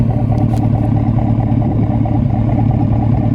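A 2001 Chevy Silverado fitted with a Black Widow Neighborhater exhaust and 8-inch tip idles close up, a loud, deep, continuous rumble with an even low pulsing throughout.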